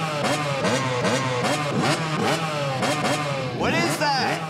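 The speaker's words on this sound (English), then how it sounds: "We can redo any song with a motocross bike." A motocross bike engine revs up and down again and again in rhythmic, rising and falling bursts, loud and close. A final sharp rev climbs at the end.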